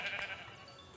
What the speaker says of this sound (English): And I might just kill this sheep just for the fun of it.